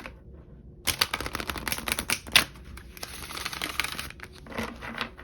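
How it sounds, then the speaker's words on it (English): Tarot cards are shuffled by hand in a run of rapid, crisp riffling and flicking bursts, close and moderately loud, after a short quiet pause. "I'm usually really good at shuffling my cards"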